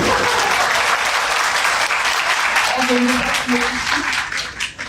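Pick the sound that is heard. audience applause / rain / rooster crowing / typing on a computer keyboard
audience applause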